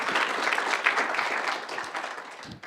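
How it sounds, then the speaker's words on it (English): A lecture audience claps in a short, steady round of applause that fades slightly toward the end. "let's have a round of applause for her as well"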